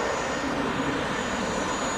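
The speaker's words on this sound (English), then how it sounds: "This NetJets Europe, Cessna 680." NetJets Europe Cessna 680 Citation business jet at Manchester Airport, heard as a brief, even jet-engine rush with a thin high whine, steady and unbroken throughout.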